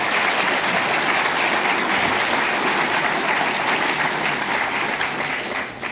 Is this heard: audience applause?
yes